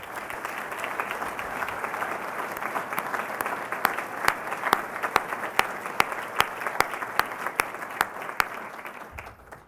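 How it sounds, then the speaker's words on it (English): Sustained audience applause at a college graduation ceremony, a dense wash of many clapping hands with sharper individual claps standing out near the end before it fades. "So I'd like to give Gerald and Karen a round of applause."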